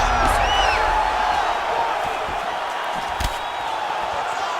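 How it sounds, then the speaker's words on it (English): Arena crowd roaring in the EA Sports UFC 5 video game during a Sean Woodson vs Charles Jourdain fight, a steady, loud wash of cheering that carries on throughout the moment. "huge pop from the crowd as the fighters get back up to their feet"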